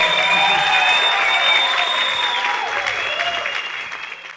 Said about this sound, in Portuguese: palmas pro meu coral